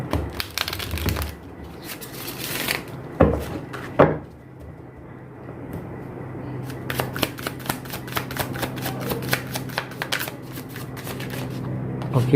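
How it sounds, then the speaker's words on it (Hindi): Tarot cards are shuffled by hand, close up, in quick riffling bursts with short pauses and light taps between them, fairly soft and without talk. "सबसे पहले तो शफल कर लेते हैं अच्छे से, है ना।"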